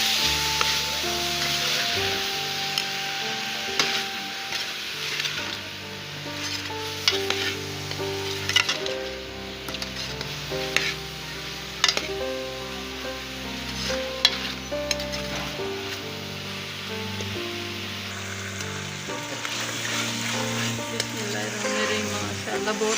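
Chopped sponge gourd (tori) fries with spices in a pan, giving a continuous sizzle with repeated stirring clinks and scrapes, under steady background music.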